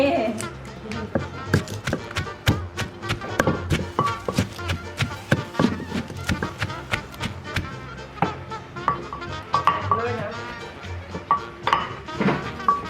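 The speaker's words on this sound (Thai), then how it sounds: "หั่นถั่วฝักยาว" Repeated knife chops through long beans knock against a cutting board in an uneven rhythm, mixed with clinks of kitchenware and a voice talking now and then.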